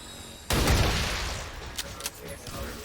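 A shot with armour-piercing ammunition in the tactical strategy game XCOM with the Long War of the Chosen mod, one heavy blast with a long rumbling tail and a couple of small knocks as it fades.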